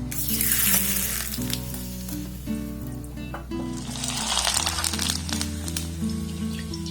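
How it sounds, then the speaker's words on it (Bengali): Homemade rice-starch papads deep-fry in hot oil in a wok, giving a loud, dense bubbling sizzle that swells in two bursts over steady background music. "এবার যে পাঁপড়গুলোকে আমি বানিয়ে নিয়েছি সেগুলো খুব ভালোভাবে ভেজে নেবো"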